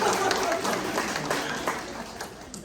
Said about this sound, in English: Y'all can clap.